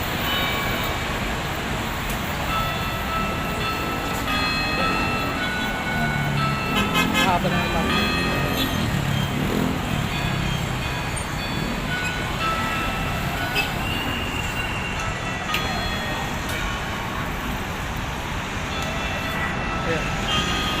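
A Manila MRT train near Baclaran rolls by steadily with a continuous rumble and faint metallic squeals amid traffic noise, while someone talks over it.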